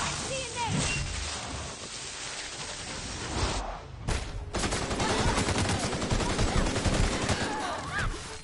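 Gunfire crackles in a soldier battle video game, loud overlapping volleys and rattling shots that run almost continuously, dip briefly near the middle, then surge back heavier, with voices shouting underneath.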